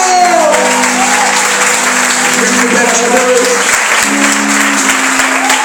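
Applause from a church congregation fills the space steadily, with a voice speaking over it and sustained tones underneath.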